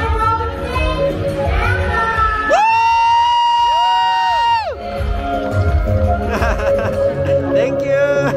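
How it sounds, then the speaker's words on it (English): Audience at the Miss Earth pageant final screaming and cheering, a dense crowd roar with shrill sustained screams swelling in the middle, under amplified announcer speech and music. "Everybody scream for Canada!"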